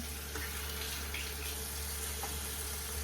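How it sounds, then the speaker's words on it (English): Hot water runs steadily from a tap into a kitchen sink, a continuous close broadband hiss and splash of moderate loudness with no talking. "Turn hot water on."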